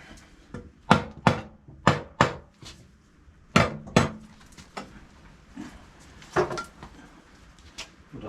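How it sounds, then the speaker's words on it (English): Light metallic taps and knocks as a Classic Mini A+ series engine's MED ST2 flywheel is seated onto its dowels, a handful of sharp close strikes spaced about a second apart, then quieter handling clunks. "little tap"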